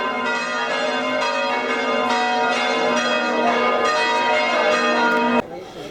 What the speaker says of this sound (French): Il est vraiment actif, son carillon.